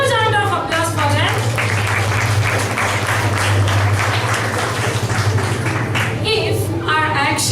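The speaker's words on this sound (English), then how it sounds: "A huge round of applause for them." Audience applause at a school show, dense and loud clapping filling the room continuously, with a voice speaking over it at the start and end.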